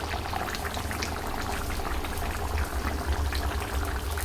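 Jackfruit curry bubbling in a pan as ghee and ground garam masala go in, a steady close burble of simmering liquid with soft popping throughout.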